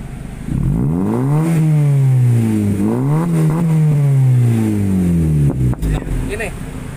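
A loud close vehicle exhaust, one of several aftermarket exhausts being compared, revs in repeated rising and falling sweeps, with a few sharp pops near the end.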